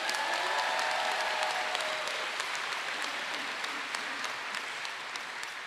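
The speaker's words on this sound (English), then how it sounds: "Let's give them a round of applause." A graduation audience applauds the Apprentice School class of 2023, a dense, sustained wash of many hands clapping that stays loud throughout and eases slightly toward the end.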